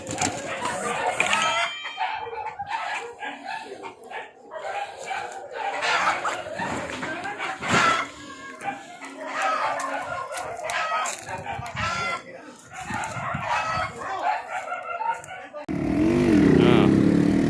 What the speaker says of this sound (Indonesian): inilah sabung ayam penjudi di Batu Nuang